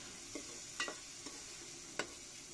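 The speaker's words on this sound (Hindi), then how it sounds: "टमाटर डालेंगे टमाटर को भूनेंगे अच्छी तरह से" Tomatoes frying in a pan in an outdoor mud kitchen while chicken bhindi is cooked, with a faint steady sizzle and a few soft scrapes of a spoon stirring.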